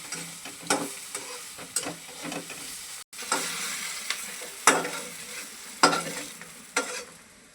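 Stuffed okra sautés in oil in a pan, the low sizzle broken by regular scraping and stirring strokes from a spatula, close by, with no talking.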